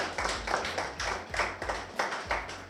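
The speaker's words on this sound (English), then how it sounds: "Let us give her a round of applause" Sparse applause for Francine, a businesswoman being honoured, comes from a small audience. A handful of people clap in loose, uneven bursts at moderate distance, and no voices are heard.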